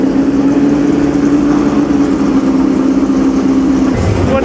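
Historic race cars idle and creep in a jam on the streets of Monaco during the Grand Prix Historique, a steady low engine drone with a sustained hum that suddenly stops near the end.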